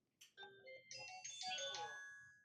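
A short electronic chime of several rising and falling tones from a Crestron UniFi Access door lock unlocking sounds clearly, ringing out alone for a couple of seconds.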